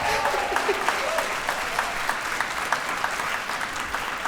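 An audience at a business mindset talk claps steadily in dense, sustained applause, loud and close throughout, with no distinct talking over it.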